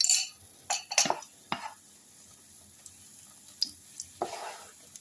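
A spoon scrapes and stirs a mango mixture with a spoonful of ghee in a kadai for mango barfi, giving a few close clinks and scrapes early on and softer sizzling stirs later.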